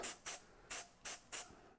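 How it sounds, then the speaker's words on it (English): Stoner mold release sprayed onto tubes for resin casting, five short sharp hissing aerosol bursts in quick, even succession, close and alone. "I'm just going to spray these tubes with Stoner mold release off camera"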